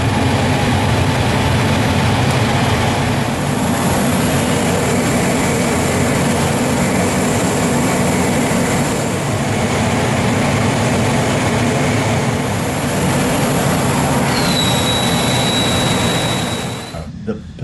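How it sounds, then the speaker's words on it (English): An HAF F-16 Block 50 fighter jet takes off with a loud, steady engine roar that fills the whole stretch. The roar eases slightly at the very end. "There's a ton of thrust. Nose come up, off she flies."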